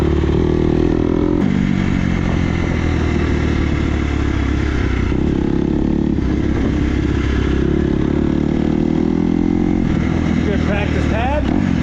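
Dirt bike engine running loud and close throughout while wheelies are practised at an empty building lot, a steady heavy drone with shifts in pitch as the throttle changes, with a voice talking over it.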